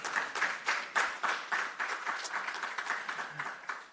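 An audience at an educators' awards ceremony claps together in a modest, steady round of applause, heard from a distance at moderate volume.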